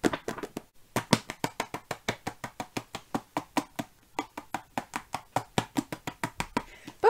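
A book is clapped shut repeatedly to mimic applause, producing a fast, even train of sharp dry slaps close by, with a brief pause near the start and another midway.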